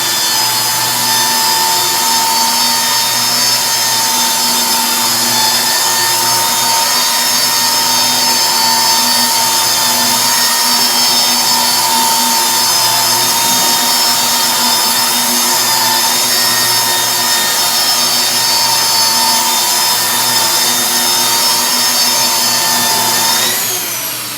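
A rotary buffer polishing car paint at 1500 RPM gives a steady, even mechanical whine with a faint hum. The whine runs close and continuous throughout, with no talking.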